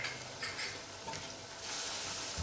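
Masala gravy for kofta pulao, seasoned with turmeric and salt, sizzles in a pan while being stirred. Soft scraping strokes sit over a steady frying hiss that swells louder near the end, with no talking.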